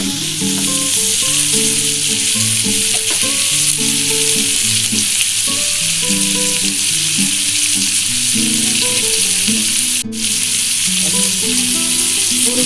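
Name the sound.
vegetables frying with turmeric for vegetarian fried rice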